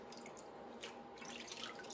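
Water runs gently and steadily as cleaned razor clam meat is rinsed to wash away sand, a faint, continuous trickle with small drips and splashes.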